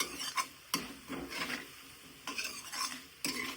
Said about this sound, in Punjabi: ਸਭ ਤੋਂ ਪਹਿਲਾਂ ਚੰਗੀ ਤਰ੍ਹਾਂ ਹਿਲਾ ਦੇਵਾਂਗੇ